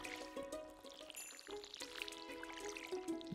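Watering can pouring over crops in Stardew Valley, a soft trickling, splashing stream that runs continuously under light game music and chimes, fairly quiet and unbroken.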